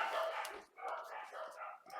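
Dogs barking and yipping at a distance, faint and intermittent, while someone talks over them outdoors as he works on a Traxxas Stampede RC truck body.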